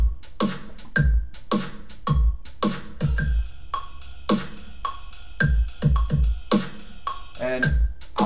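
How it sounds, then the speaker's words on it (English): Drum beat assembled from separate drum parts in Ableton Live: punchy kicks and crisp snares with hi-hats in a steady, repeating groove, loud and close with no talking. "So what we have now from piecing all these drum parts together,"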